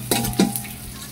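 Garlic, onion, ginger and green chili sauté in a pan for a snail dish, with a couple of quick stirring scrapes over a soft background sizzle.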